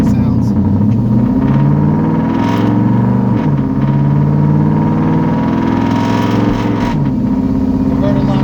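Turbocharged Ford Cobra with a 6R80 automatic transmission accelerating, heard through an open window, a loud engine roar with stepped pitch rises and drops as gears change, steady and close.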